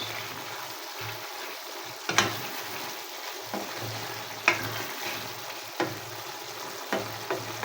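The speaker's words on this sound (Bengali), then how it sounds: "এখন আমি একটু ঢাকনাটা সরিয়ে তরকারিটা নেড়ে দেবো" A vegetable curry with silver carp fish bubbles and sizzles in a pot while a spoon stirs it, with a soft steady simmer broken by several sharp clanks and scrapes against the pot, close by and without speech.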